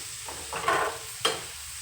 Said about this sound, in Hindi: और ये देखो, मसाले भी भुंज गए